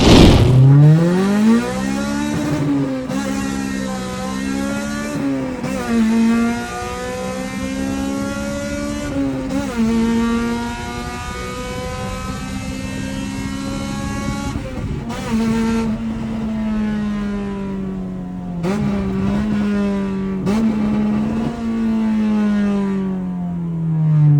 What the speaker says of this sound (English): I actually enjoy the no exhaust. It's a mad sound, that's unique.